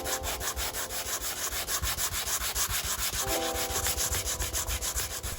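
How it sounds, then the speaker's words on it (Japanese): Steady back-and-forth rasping of 180-grit sandpaper on a wooden block, grinding down hardened bond during a small repair, continuous and close with a rhythmic scrubbing pulse throughout. "サンドペーパーの180番と当て木を使って削っていきます"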